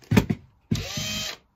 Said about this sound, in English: I only have the one drill at the moment, so I'm having to swap the drill bit out for the countersink and then for the screw bit